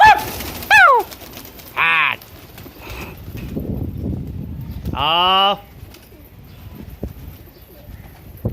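Pet pigeons being trained with a voice talking and calling at intervals, short bursts of wing flapping and faint background coos and rustling between the louder moments.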